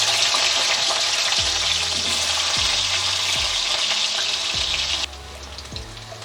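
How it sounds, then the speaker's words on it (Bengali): Potatoes fry in hot oil with a loud, constant sizzling hiss, broken by a few hollow knocks of stirring, before the sizzle drops abruptly quieter near the end; no one speaks. "আলুগুলো আগে ভেজে নেব।"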